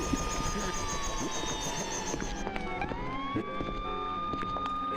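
Sirens in the SimCopter video game wail steadily with sweeping, falling tones amid a busy city background, fairly loud and continuous throughout.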